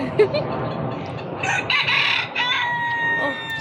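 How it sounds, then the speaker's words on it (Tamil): A rooster crows outdoors at a farm with egg-laying hens and fresh milk, one drawn-out crow rising in the middle of steady ambient noise and faint background sounds. "சேவலும் ஒருத்தர் நிற்கிறார்."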